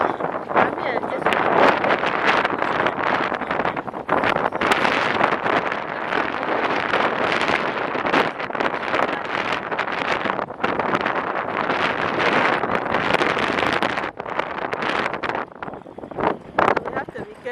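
Strong wind buffets the microphone at a Rockley Park boat yard beside a rough sea, a loud continuous roar with gusty bursts and rustling throughout, no clear voices.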